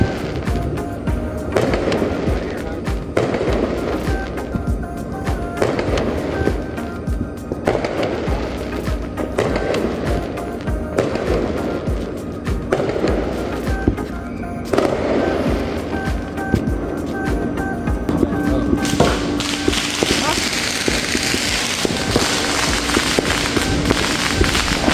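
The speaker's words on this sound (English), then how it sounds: "Last year there was a fireworks here." Fourth of July fireworks and firecrackers burst in a neighborhood, a dense run of sharp cracks and pops at a steady, repeating rhythm that grows into a louder crackling barrage near the end.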